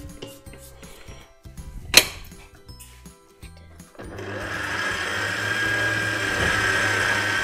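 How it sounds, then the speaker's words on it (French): Kitchen appliance mixing cougnou bread dough; a few clinks and a sharp knock, then the motor starts and runs in a steady, loud whirring drone, close, no voices. "vous allez faire tourner l'appareil pendant 10 minutes sans arrêter pour bien tout mélanger"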